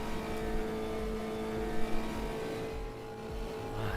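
A racing car engine in the game Automobilista 2 drones steadily with a tonal hum and slight rises and dips in revs, continuous and fairly close, with no voices.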